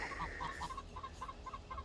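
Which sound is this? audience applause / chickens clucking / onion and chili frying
chickens clucking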